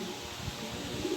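Racing pigeons coo softly and continuously at a club loft, a low murmuring burble with no one speaking.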